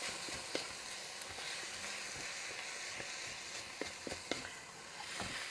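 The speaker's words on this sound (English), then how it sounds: "you put in onions and peppers and you're frying something up" Steady sizzling of onions and peppers frying in a pan for chili, a continuous crackle with occasional louder pops and stirring clatter, close by with no talking.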